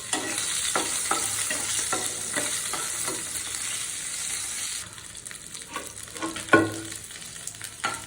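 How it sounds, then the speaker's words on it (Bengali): Dried red chillies and hilsa fish frying in hot oil, a steady close sizzle broken by repeated stirring scrapes and clacks, the hiss dropping partway through before a sharp loud clatter near the end; no voices. "আমি শুকনো মরিচটাও ভেজে নেবো"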